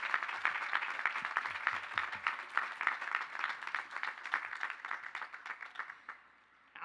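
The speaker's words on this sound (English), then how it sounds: "Let's have one more round of applause for Dr. Garcia, Mr. Lavelle, and Mr. Seidenberg." A graduation audience at Lehman College's 2019 commencement claps for the honorary degree recipients, a soft, distant ripple of many hands that holds steady and then thins out and fades near the end.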